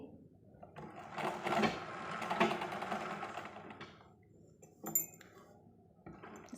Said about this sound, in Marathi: आता त्या साड्या पिको करून घेते